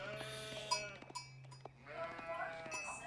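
Sheep bleat in a competitive video game match: several wavering bleats come in short bursts, with a clunky cowbell-like knock between them at a soft level.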